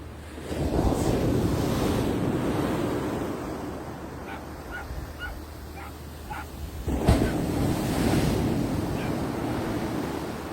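Ocean waves break on South Shields beach at Little Haven in a continuous wash of surf, with wind buffeting the microphone and a few distant dog barks.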